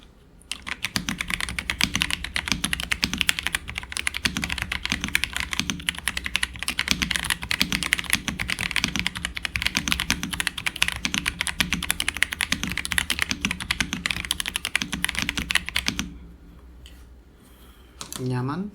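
Rapid, steady clacking of keys on a Pressplay Apollo61 Lite entry-level mechanical keyboard during a typing test, dense close-up keystrokes for about fifteen seconds before stopping, with some talking near the end.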